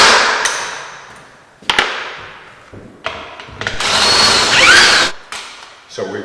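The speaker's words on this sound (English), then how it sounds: "remove the two 7/16 lag bolts that are behind it" Power tool driving out two 7/16 lag bolts from a TorqueMaster garage door spring in a garage, with close, loud bursts of whirring and clanking separated by brief pauses.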